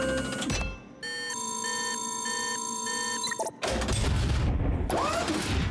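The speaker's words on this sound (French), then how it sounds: "Nous allons utiliser cette machine à copier." An animated copying machine whirs up with a falling tone, then holds steady beeping, pulsing electronic tones before clunking off into a burst of noisy rumble and whooshing.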